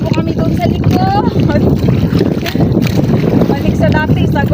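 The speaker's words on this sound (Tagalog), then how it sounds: "Bangkang disagwan muna yung ginamit namin mga kasisters kasi yung bangkang motor po namin binara po muna namin" Wooden bangka rowboat paddled by hand on the sea near shore, with continuous broadband water and wind rush, faint splashes, and voices chattering over it.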